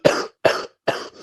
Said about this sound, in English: Still cold, still coughing